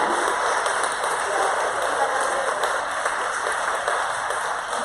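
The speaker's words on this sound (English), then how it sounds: "give a huge round of applause for 4 amazing leaders" An audience applauds four leaders at a women's business event, a dense, sustained wash of clapping from many hands, loud and continuous from start to finish.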